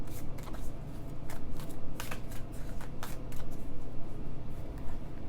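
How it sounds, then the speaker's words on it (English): Tarot cards are shuffled by hand close to the mic, with a run of quick papery riffles and soft slaps that come in uneven bursts over a low background hum, with no talking. "I'm going to shuffle. I feel the need to shuffle again."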